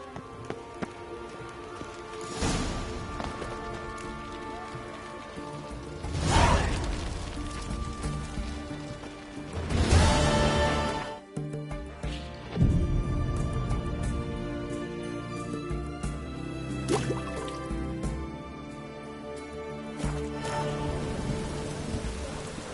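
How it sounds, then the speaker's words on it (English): Steady rain hisses down in The Witcher 3 game, broken by several loud rolling thunder rumbles that swell and fade, with no voices. "It's raining, of course."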